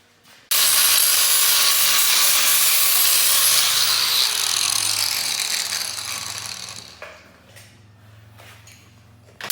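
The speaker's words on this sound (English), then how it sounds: "These things need to be cut out." A tool saws through metal shock mounts on a car, a loud, steady rasping cut lasting about six seconds before it tapers off and stops, leaving faint workshop clatter.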